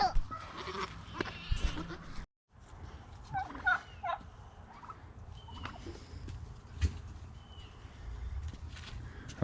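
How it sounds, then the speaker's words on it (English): Red bourbon breeder turkeys, three hens and a big tom, gobble and call repeatedly close by on a farm, with a brief silent break partway through. "These are our breeder turkeys."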